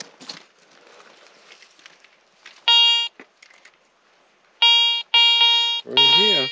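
A metal detector used while canoeing and camping in the North Maine Woods gives sharp electronic beeps, one short burst and then three in close succession, between quiet stretches with faint voices in the background.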